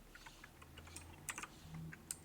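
Someone types on a computer keyboard while entering Python Pandas code: quiet, uneven bursts of key clicks with a few sharper keystrokes, close by and faint, with no one talking.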